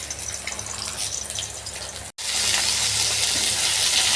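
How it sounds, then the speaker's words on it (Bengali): Rohu fish pieces frying in hot oil in a home kitchen, a steady loud sizzle and crackle throughout, briefly cutting out midway before resuming even stronger. "রুই মাছ ভাজা আমি বসিয়ে দিয়েছি।"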